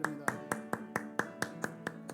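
Slow, evenly spaced claps, about eight sharp strikes in two seconds, from a church congregation during a Korean-language worship service in Kyoto, fairly soft and steady with no talking over them.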